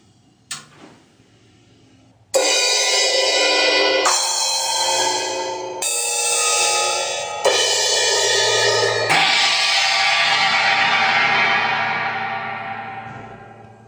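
Drum kit cymbals struck one after another, each loud crash ringing bright and shimmering until the next hit cuts in, five strikes in all, with the last left to decay slowly toward silence.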